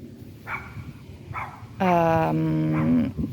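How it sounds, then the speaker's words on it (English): Dogs in a vegetable garden give a loud, drawn-out whining yelp near the end, after quieter bursts under outdoor background noise; no clear barking or growling stands out. "These are the dogs that encourage my dog to jump around on the plants."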